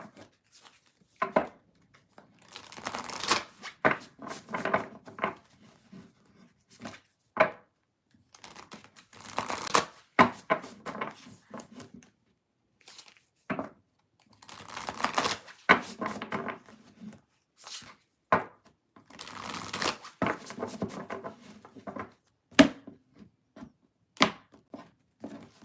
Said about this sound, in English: It's going to take me a second to shuffle